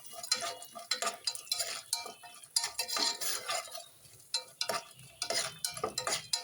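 Chana dal and cumin crackle as they roast in oil in a pan for tomato rice, while a metal spoon scrapes and stirs in steady, uneven strokes close by.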